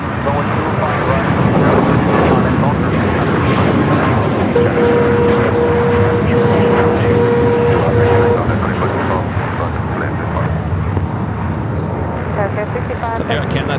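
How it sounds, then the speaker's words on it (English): An Air Canada Boeing 737 MAX 8 at Los Angeles International Airport (LAX) produces a loud, continuous jet engine roar with a steady whine, while a voice talks over it throughout. "It's an Air Canada 737 MAX 8."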